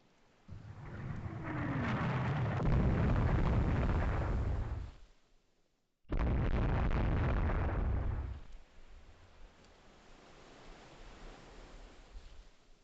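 17-inch naval shells strike warships in the naval strategy game Rule the Waves 3: two long, loud, rumbling explosions, each a deep roar lasting several seconds, separated by a brief gap and trailing into a low background murmur.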